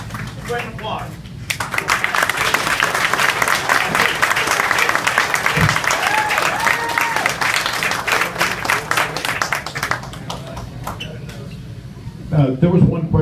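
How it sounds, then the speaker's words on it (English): Audience members at a 2016 Apache Junction mayoral forum break into applause, dense clapping that swells after a moment of talk, holds steady for several seconds, then fades as speech returns. "Great applause."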